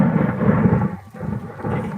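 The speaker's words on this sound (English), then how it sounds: "Thunder, that lightning thunder." Close thunder during a rainstorm over a freshly planted corn field, a deep heavy rumble that swells, dips briefly and rolls on, with rain hissing beneath.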